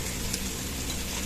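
Strips of pork belly fry in a pan for a samgyupsal meal indoors, giving a steady, close, continuous sizzle that crackles evenly throughout with no pauses.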